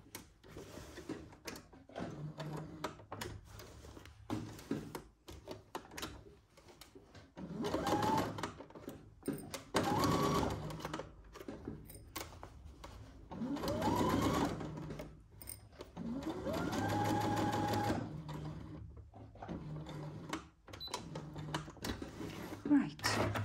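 Sewing machine stitching a Simplicity 1802 garment in bursts of fast mechanical chatter, several runs of stitching separated by pauses and soft handling sounds, with a voice speaking at times.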